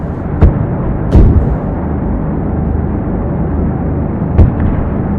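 Heavy gunship cannon in the video game Project Gunship fires three booming shots, at the start, just past one second and near the end, each loud and close over a steady low rumble of aircraft drone.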